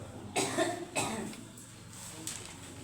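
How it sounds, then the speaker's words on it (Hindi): A student coughs in a classroom during a geography lesson, two close harsh coughs followed by a fainter third, heard alone against a quiet room. "यहाँ आके बीच मंच पे खड़े होके खांसना आप, नहीं तो अब खांसना नहीं"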